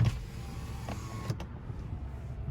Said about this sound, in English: power windows work.